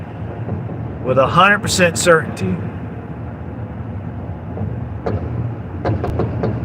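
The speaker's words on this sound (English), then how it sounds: "it sounds like a car's getting ready to blow up next to me" A low, steady engine rumble sits close by throughout, with someone talking briefly over it near the start and a few sharp clicks toward the end.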